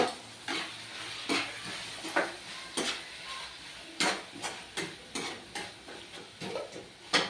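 Cucumber, tamarind and coriander cooking in a pan on a stove for a cucumber chutney, with repeated soft stirring scrapes and light sizzling bursts at a steady, irregular rhythm, close and fairly quiet.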